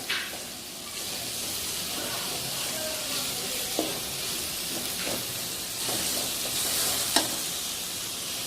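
Tomatoes sauté in a pan for masala idli, giving a steady soft sizzle and hiss with occasional light scrapes and taps of a stirring spoon; no speech.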